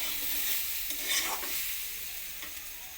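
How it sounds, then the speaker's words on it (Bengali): Ground spices frying in a pan with papaya and potato, a steady close sizzle with the scrape of stirring running throughout, no voices. "গুঁড়ো মশলা মশলাগুলোকে একসঙ্গে ভেজে নেবো পেঁপের সঙ্গে পেঁপে আলুর সঙ্গে"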